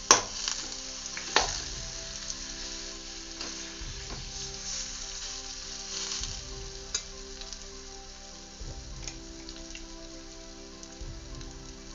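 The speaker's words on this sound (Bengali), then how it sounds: "তেঁতুলটাকে এইভাবে আমি ভালো করে এপিট ওপিট দুপিটি ভালো করে নাড়াচাড়া করে নিচ্ছি।" Tamarind is stirred and fried in a pan with a continuous soft sizzle, while a spoon scrapes and knocks against the pan at irregular intervals.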